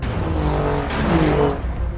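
Alfa Romeo Giulia Quadrifoglio four-door saloon with a 191 mph top speed driving, its engine giving a steady, loud tonal drone that rises in pitch midway, close and continuous with no talk over it.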